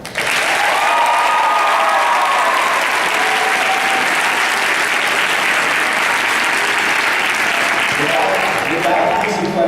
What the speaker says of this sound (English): please give a roaring applause for all the staff members at Urbana High School.